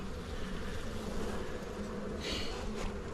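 Honeybees buzz densely around an open hive frame after winter, a close, continuous hum of many insects with no talking.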